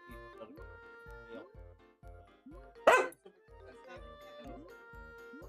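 A dog barks and yips a few times indoors while game music with a steady repeating beat plays, and people talk in the background.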